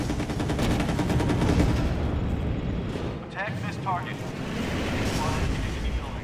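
Gunfire from a squad in the Empires Source mod game on the emp_coast map, with dense rattling bursts and rumbling blasts that fill the clip over game noise.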